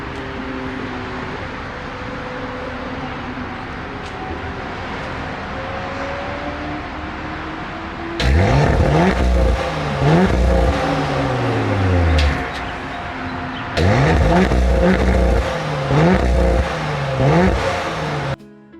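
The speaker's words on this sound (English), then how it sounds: "let's check out the exhaust note" An Audi RS5 idles with a low rumble, then its exhaust barks through two loud revving bursts that rise and fall, close up.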